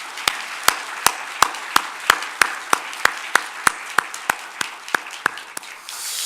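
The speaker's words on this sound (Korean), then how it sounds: "우리 하나님께 영광의 박수를 올려드리겠습니다." Slow, evenly spaced hand claps in a steady rhythm, crisp and fairly loud in a reverberant church, with no voices.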